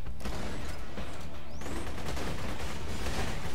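Automated turret firing in the shooter game Borderlands 2, a dense, continuous barrage of rapid shots and booms that fills the whole moment at steady loudness.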